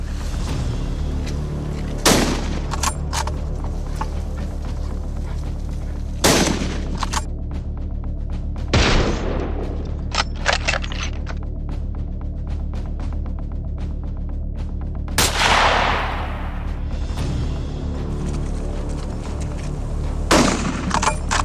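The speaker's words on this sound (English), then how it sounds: "Gunshots ring out across the fields" Scattered gunshots from a wild boar hunt crack out one at a time across Texas cornfields over a low steady rumble, some sharp and close, others duller and farther off, several seconds apart.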